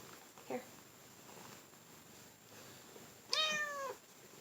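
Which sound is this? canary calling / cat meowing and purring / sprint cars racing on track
cat meowing and purring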